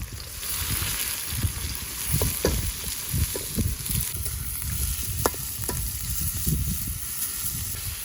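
Chopped onions hit hot wood-pressed sesame oil with already-popped mustard seeds, for a squid masala. The result is a steady, loud, close sizzle broken by irregular stirring scrapes and clicks throughout.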